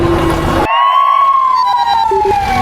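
An ambulance siren wails loud and close, one long gliding tone that slowly falls in pitch, with the sound cutting in abruptly at the start.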